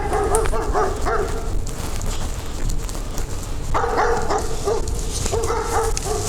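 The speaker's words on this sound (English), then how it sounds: "Just the dogs barking here in the background." Dogs bark and yelp in the distance, in two bursts of repeated barks over a constant noisy background.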